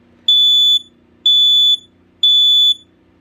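A hardwired AC/DC ionization smoke alarm, model RF-SM ACDC, sounds during a test: three loud, piercing, evenly spaced beeps, each about half a second long, with a faint low hum between them.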